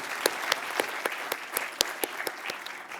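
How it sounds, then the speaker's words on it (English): Small-audience applause after an industry outlook fireside chat, a few close, crisp hand claps in a loose rhythm over steady clapping from the rest of the room. "Big round of applause for Alan and Clay."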